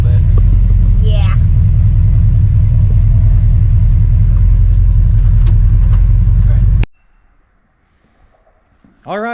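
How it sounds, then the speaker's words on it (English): A truck engine on a road test drive rumbles loud and close with steady low drone, a rising whine briefly over it, then cuts off abruptly near the end, leaving near silence before a short voice. "Alright, successful test drive."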